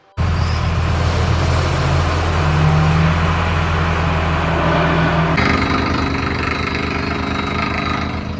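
Loud, continuous mechanical roar of a borewell drilling rig boring for water near a house, with a sudden change in tone partway through as the rumble shifts when it hits rock.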